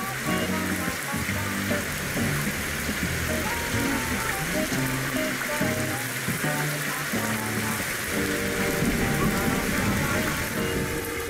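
Steady rain falls in the 2D puzzle-adventure game Stick It To The Man, a continuous wash of patter under game music and background effects.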